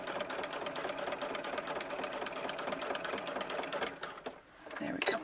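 A sewing machine stitching a green coat runs in a fast, steady, close mechanical whir, then briefly pauses near the end before starting up again.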